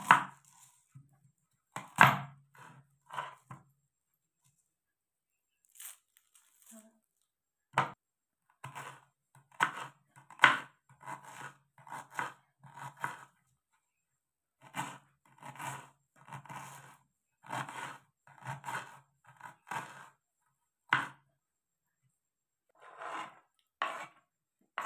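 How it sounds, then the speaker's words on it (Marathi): Onion being finely chopped with a knife on a board, a quiet series of crisp taps in quick irregular bursts with short pauses between them. "कांदा चिरून घेणार आहे बारीक."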